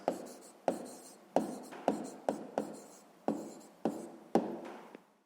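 Pen or chalk writing out a math answer in a sixth-grade lesson, a series of about nine sharp scratchy strokes, each starting with a crisp tap and trailing off, close and clear with no voice.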